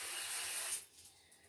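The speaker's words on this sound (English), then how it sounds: "I'm using extra virgin olive oil spray" An extra virgin olive oil spray can hisses in one long continuous burst over a roasting pan for a chicken dinner, then cuts off into near silence.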